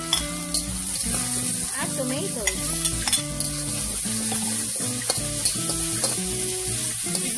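Garlic and onion sauté in a hot pan for pork menudo, sizzling and frying steadily while a utensil stirs and scrapes in repeated clicks, with a brief spoken word.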